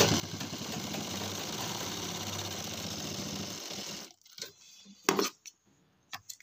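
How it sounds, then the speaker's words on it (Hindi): An electric sewing machine runs steadily, stitching a pocket onto a pajama. It whirs continuously for about four seconds, then stops, leaving a few short clicks and handling noises. "खींच के सिलाई लगाना है जिससे झोल वगैरह ना आए"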